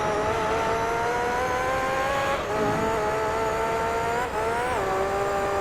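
Formula GT race car in Gran Turismo 3 screaming at high revs, its engine whine climbing steadily with brief dips at gear changes, loud and continuous with no talk.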